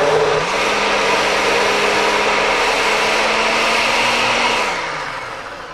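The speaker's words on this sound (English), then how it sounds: "Now we're going to start to blend these." A blender whirs loudly and steadily at close range as it blends raw protein cookie ingredients with bananas, its motor pitch shifting slightly early on before spinning down and fading.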